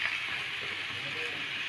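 Potato and eggplant pieces sautéing in spices in a pan for a fish-head mixed-vegetable chorchori, a steady broadband sizzle that holds evenly and fairly close throughout with no talk.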